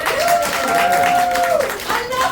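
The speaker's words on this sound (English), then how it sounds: "Clap your hands if you've heard of Les Mis" An audience of campers claps their hands in a brief burst of applause while a sustained vocal tone carries over the top.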